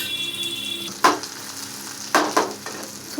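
Sweet potato cutlets frying in plenty of oil over low heat, a soft steady sizzle with a few louder crackling bursts partway through, close and alone with no voices.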